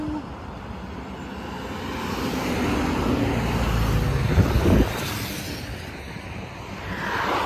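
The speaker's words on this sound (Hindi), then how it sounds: "तो आ चुकी है हमारी सुपर बाइक्स" BMW superbikes rush by on a highway, a broad engine roar that swells to a loud close pass around the middle and then fades into wind-like road noise.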